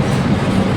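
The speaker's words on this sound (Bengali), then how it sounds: "7:30 ট্রেন ছেড়ে দিল হাওড়া স্টেশন।" A long-distance passenger train pulls out of Howrah station, its steady low rumble continuous and close throughout.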